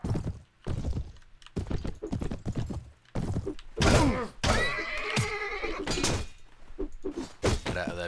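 Horses neigh and whinny in a medieval combat game, with several loud whinnies and hoof thuds amid clashing battle noise over a steady low rumble.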